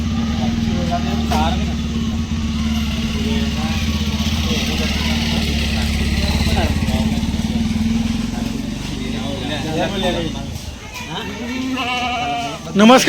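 Kathiawadi goats bleat at a livestock sale, several calls rising over a steady engine rumble from a nearby vehicle while people talk throughout.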